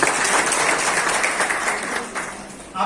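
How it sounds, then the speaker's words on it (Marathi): Loud, dense applause from an audience honouring a couple at a Women's Day award ceremony, a steady wash of clapping that fades slightly before a final swell. "जोरदार टाळ्या आप्पा आणि वहिनीसाठी द्यायला पाहिजे"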